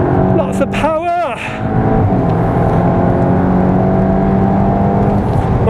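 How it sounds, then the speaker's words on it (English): A tuned Mk7.5 Volkswagen Golf R accelerates hard on a race track, a loud steady engine drone from inside the car with rising pitch, while someone talks over it at the start. "get on the gas now, not much understeer, lots of grip, lots of power"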